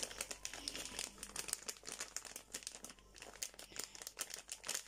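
Plastic crinkles and rustles continuously up close, with irregular sharp crackles as the bag is handled.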